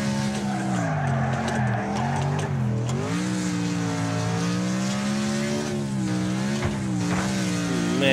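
Tires squeal and skid loudly in a racing video game, a continuous wavering screech over a steady engine drone, sliding up and down in pitch as the car swings through a corner.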